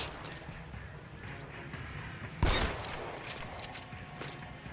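Gunfire in the video game L.A. Noire, including one loud shot near the midpoint, among faint background game noise with scattered soft cracks.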